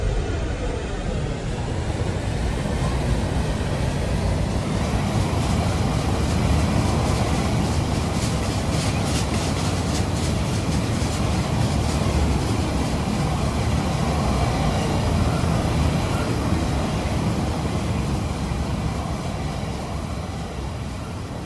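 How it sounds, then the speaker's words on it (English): A model train rolls along its rails in the RO-Scale Sandbox video game, giving a loud, steady rumbling roar that runs unbroken through the whole stretch with no voices over it. "now I'm going to let go of this train"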